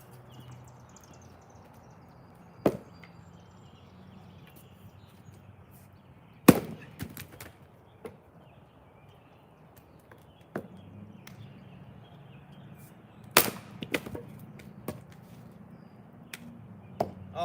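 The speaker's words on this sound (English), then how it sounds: "Split a couple rounds." Firewood rounds are split outdoors, with a handful of sharp, loud woody whacks spaced seconds apart and quieter knocks and rustling between them.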